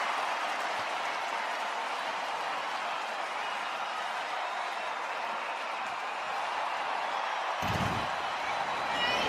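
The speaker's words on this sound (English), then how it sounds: "Joe Adele, listen to the crowd." Baseball stadium crowd roaring in a steady, loud wash of cheering and applause, with a brief thud near the end.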